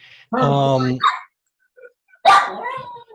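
A dog barks twice from close by, a long harmonic bark followed by a shorter one after a brief pause, loud and alone without talk.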